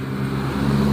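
Primajasa Super Executive bus running on a toll road from Tasikmalaya toward Lebak Bulus, giving a steady loud low engine drone with road rumble, close and continuous with no talk.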